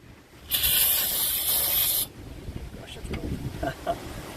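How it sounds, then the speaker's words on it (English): Brake cleaner degreaser sprayed from an aerosol can into wheel bearing parts: one loud, sharp hiss lasting about a second and a half, then quieter clinks and rustling as the parts are handled. "Is spraying it in there, blowing. It'll basically clean the grease right out."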